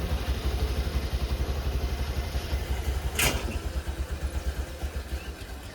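A motorcycle engine idles nearby with a rough, rhythmic clattering pulse like an auto rickshaw. It runs steadily throughout, with one short sharp noise partway through.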